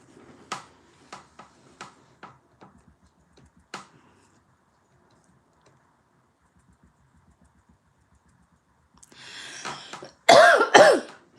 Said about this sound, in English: Blasted dry cough.